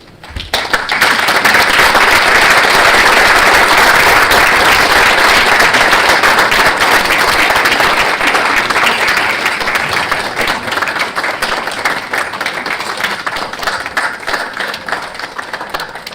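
A lecture audience breaks into loud, close applause that rises sharply, holds as a dense roar of many clapping hands, then thins gradually into scattered claps toward the end.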